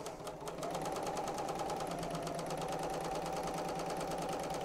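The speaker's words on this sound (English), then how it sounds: "you're just going to sew these, lining up all your raw edges" Serger sewing machine stitching quilt fabric, a fast steady mechanical whir with rapid regular needle ticks, starting after a couple of slow stitches and running continuously, close and moderately quiet.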